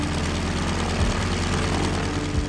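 A de Havilland Beaver floatplane lifts off a river in Alaska, its steady loud propeller-engine drone filling the clip with a constant low throb and no voices.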